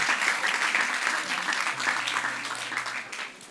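An audience at a talk breaks into warm, dense applause that holds steady, then eases slightly toward the end. A faint low hum sits underneath.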